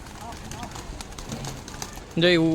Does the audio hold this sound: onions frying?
no